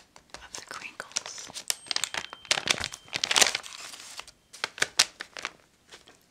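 Close, crisp crinkling and crackling of stiff pages in a water-soaked then dried magazine as it is flipped through, in irregular bursts with brief pauses between them.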